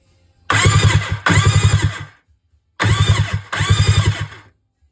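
A stand-up jet ski motor, freshly reinstalled and wired to a temporary battery hookup, cranks over loudly in two pairs of bursts, each about a second long with a rapid rhythmic chug, separated by a brief pause.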